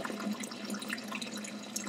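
Tap water runs steadily into a pasta pot in a home kitchen as it is filled for boiling, a continuous close hiss and splash with no talking.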